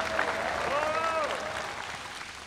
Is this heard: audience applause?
yes